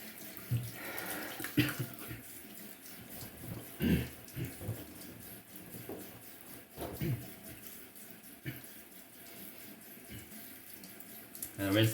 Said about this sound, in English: And rinse the blade on the water